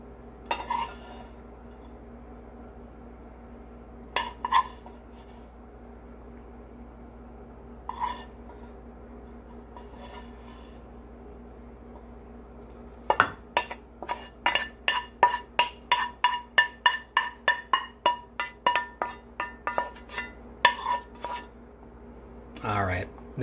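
Beef served with a utensil onto a plate of rice for spicy garlic beef and broccoli, heard as a few isolated clinks followed by a quick run of rhythmic metal-on-dish scrapes and taps, close and fairly quiet.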